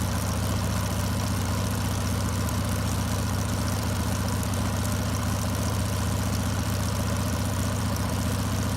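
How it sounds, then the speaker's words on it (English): A 1943 Buffalo LVT-4 amphibious tracked vehicle's radial engine idles steadily, a deep, even low rumble with constant vibration and no pauses, close and loud throughout with no voices. "Hearing its distinctive radial exhaust note marks a significant step forward in the ongoing restoration of a 1943 Buffalo LVT-4"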